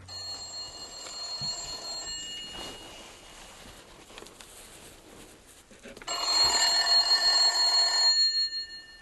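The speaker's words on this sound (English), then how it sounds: "there was a rotary dial telephone ringing on its own" An old rotary dial telephone inside a metal box rings in two bursts of rapid metallic jangling, separated by a quieter stretch with faint shuffling, the second burst louder and closer.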